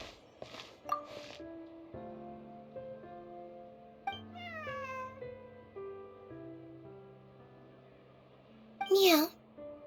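A cat meows in the Genshin Impact video game, a short rising-falling call near the end over a soft game music backdrop with a few chimes.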